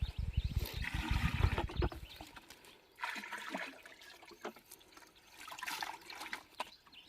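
Liquid mixture poured into a 200 litre drum, a gurgling splashing gush for about two seconds, then intermittent trickles and sloshes, no talk.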